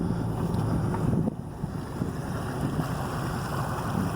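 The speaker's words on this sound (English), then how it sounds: "The creek is roaring on through." A swollen creek in North End after a day of about eight inches of rain rushes past in a steady, loud, broadband roar, with gusting wind noise over it throughout.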